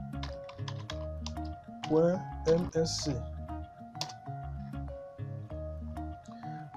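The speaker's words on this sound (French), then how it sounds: "Vous allez toujours appuyer la touche Windows plus R, ensuite taper service.msc." A computer keyboard is typed on in short bursts of clicky keystrokes, close and fairly quiet, while someone speaks over the typing throughout.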